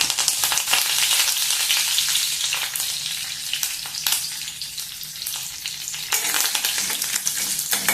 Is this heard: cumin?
yes